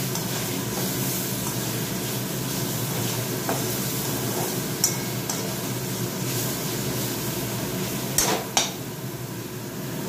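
Leafy greens frying in oil in a pan, a steady soft sizzle with occasional scraping clicks of stirring near the end, with no talking.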